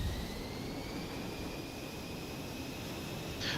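A jet engine in the War Thunder game spools up as a steady, broad, airy roar with a thin rising whine. It holds at a constant level and is heard alone, without voices.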